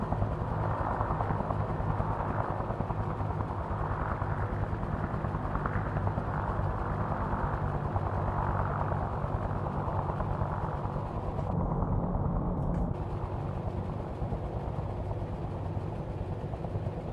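Kiowa helicopter flying in the combat game GHPC, a steady continuous rotor and engine drone that holds at an even level throughout, with a brief dip near the middle.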